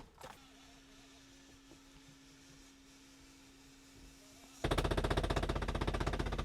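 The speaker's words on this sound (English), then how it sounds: "Electric sunshade, dude." The electric sunshade motor in a BMW Alpina B10 Biturbo E34 whirs steadily at a low level, then a loud, rapid rattling buzz starts abruptly and continues to the end.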